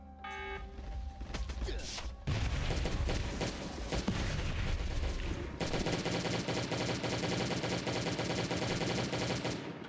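Sustained rapid gunfire from a gun in the survival game Last Day on Earth, a dense, loud, continuous barrage of shots that runs almost without a break through the whole stretch.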